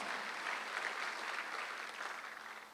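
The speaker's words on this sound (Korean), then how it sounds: "예수께서 여러분 나처럼 시험을 받으셨기 때문에 하나님이 도우신다고 히브리서에 나온 거면 시험 박수 한번 하세요" Church congregation clapping together during a Sunday worship service, a steady continuous wash of applause from many hands at moderate volume, with no talk over it.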